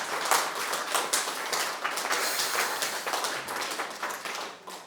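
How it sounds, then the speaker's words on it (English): Audience applause after a spoken-word poetry performance, dense steady clapping from a crowd lasting the whole stretch without a break. "Thank you for the applause."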